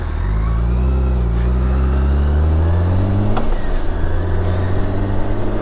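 A BMW motorcycle engine droning loud and close while riding, its pitch climbing steadily and then dropping sharply with a gear change before holding steady again.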